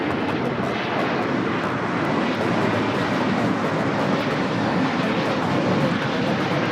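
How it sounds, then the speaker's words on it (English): A Qantas airliner arriving at Los Angeles airport after a flight from Sydney makes a loud, steady, broadband jet roar that holds at an even level throughout, with no voices. "Qantas Flight 11 coming in from Sydney."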